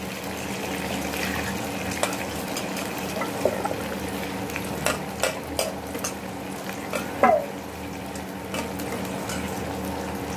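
Cauliflower stalk pieces stirred in a cooking pan with water, a bubbling simmer under scattered utensil clinks and scraping knocks, growing busier toward the end, no voices.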